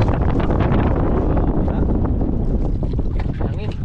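Strong wind buffets a small boat at sea, a continuous rushing roar with microphone gusts, and someone talks over it.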